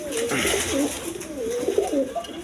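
A pair of red checker pigeons coos in repeated rising-and-falling phrases, close and fairly loud, with a steady room noise underneath.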